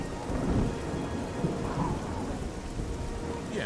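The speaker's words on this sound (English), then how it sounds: "Ah, it's raining." Rain pours steadily in the fantasy game Oblivion while thunder rumbles low underneath, one continuous stormy wash with no one speaking.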